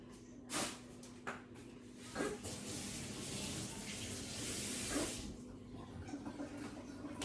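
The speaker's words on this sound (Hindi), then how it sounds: "मैं इस कैरेट को धो लाऊं।" Tap water runs steadily over a carrot being washed, a close hissing flow broken by several louder splashing gushes as the carrot is moved under the stream.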